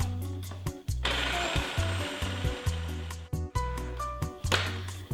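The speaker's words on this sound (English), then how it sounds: "So I'll process this until smooth paste is formed." A food processor whirs as it blends garlic into a smooth paste, a steady motor drone cut by several brief pauses, close and fairly loud with no talking.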